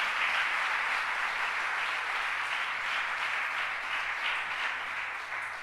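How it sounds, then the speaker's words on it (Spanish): Sustained applause from a church congregation, an even, crowded patter of many hands heard at a distance, holding steady throughout with a faint low hum underneath. "Le da un aplauso a Jesús por eso."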